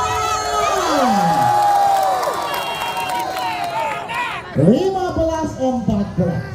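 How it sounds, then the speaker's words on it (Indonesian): Crowd at a volleyball match cheering and roaring steadily throughout, with an excited commentator talking over the noise and a louder swell of shouts near the end. "mana tepuk tangannya buat Kampan Ripan"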